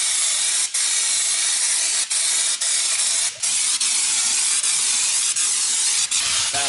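Spray paint hisses steadily onto an EK hatch, a loud, close, continuous spray broken by a few brief pauses between passes.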